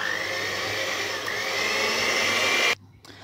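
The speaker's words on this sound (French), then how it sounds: "on va mixer le tout" Electric mixer blending savory sausage cake batter, a steady, close whirring drone that runs without a break and then cuts off abruptly near the end.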